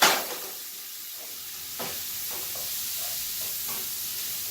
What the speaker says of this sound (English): I got my water boiling.